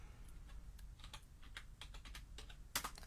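Steady clicking of a computer keyboard as someone types a word into a search bar, a quick run of close, light keystrokes with one sharper tap near the end, no voices.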